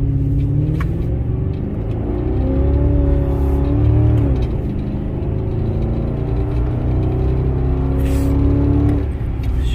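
A Lincoln Town Car on Uniroyal Tiger Paw tires pulls away with a loud, steady low engine rumble and rising then easing tones as it accelerates, heard close with no talking.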